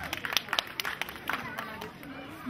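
Audience at a children's Miss pageant, ages 0-3, at an end-of-summer festival in Łękawka, applauds contestant number ten: a short burst of scattered clapping and crowd chatter, moderately close, with voices mixed in.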